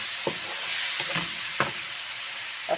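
Tomatoes with spices frying for an okra dish, a steady broad sizzle carrying several soft scraping stirs of a spoon in the pan, with no talking.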